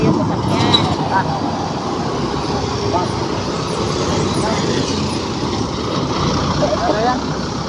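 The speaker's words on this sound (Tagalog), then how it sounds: "Eh, truck ito, truck." A truck rolls past on a roadside in the Philippines, a steady broadband rumble of heavy engine and tire noise holding loud across the whole stretch, with passing traffic and voices mixed underneath.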